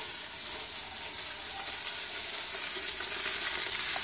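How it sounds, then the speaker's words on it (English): Celery and other vegetables sauté in a pan for a bolognese ragu. A steady, close sizzle with light stirring scrapes runs throughout and grows slightly louder toward the end. "we're going to let it saute for, I don't know, good 5-10 minutes"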